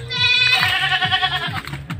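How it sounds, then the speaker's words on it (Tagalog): A goat bleats close by in a repeated, wavering cry, several pulses run together over a low rhythmic thumping. "May kambing dito guys."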